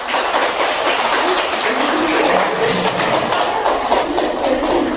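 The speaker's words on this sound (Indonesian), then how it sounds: "Kasih tepuk tangan" Loud, close applause from students in a university classroom teaching session, a thick continuous patter of many hands with no break.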